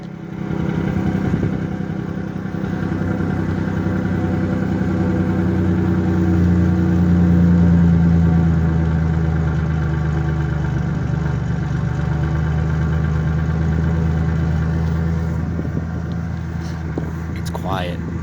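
Stock exhaust on a truck idling steadily, a low continuous rumble that swells briefly midway and stays fairly loud throughout, with a faint clatter near the end.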